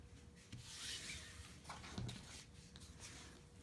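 Double-sided tape being handled, pulled and rubbed down onto fabric gives a soft, close scuffing and rubbing with a few faint crinkly scrapes, quiet and steady for a few seconds.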